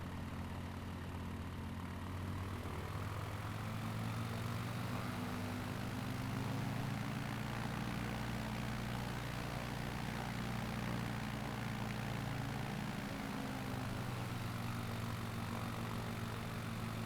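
The propeller engine of a Shock Ultra Cub in Microsoft Flight Simulator 2020 drones loud and steady, a continuous close-up hum that holds throughout without pause.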